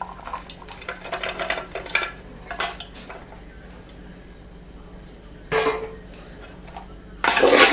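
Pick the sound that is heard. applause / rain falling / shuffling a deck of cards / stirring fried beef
stirring fried beef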